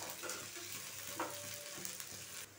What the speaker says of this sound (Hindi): मैं इसमें आलू डाल दूंगी और इसे भी एक बार इस तरह से मिक्स कर लूंगी। इसे इसी तरह से 2 मिनट तक आप फ्राई कर ले।